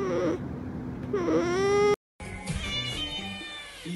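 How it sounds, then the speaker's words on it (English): A cat meows loudly and close, a drawn-out plaintive cry like a whining infant, then after a brief silence gives further softer mews and whimpers. "And I will show you the cutest cat you've ever seen."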